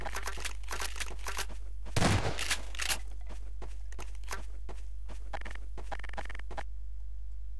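Rapid video game gunfire in Garry's Mod, a dense burst of shots around the middle surrounded by many quick regular cracks and taps, over a constant low hum.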